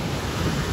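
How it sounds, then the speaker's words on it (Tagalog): Strong ocean waves crash onto a beach in La Union, a dense, loud rush of surf mixed with wind buffeting the microphone, with no talk. "Napakalakas ng alon."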